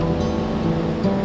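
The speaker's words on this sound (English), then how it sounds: "I've been walking about 1 kilometer to get to this gorgeous, huge waterfall." Huge waterfall heard from nearby, a steady broadband rushing roar with no pauses, loud and even across the brief moment.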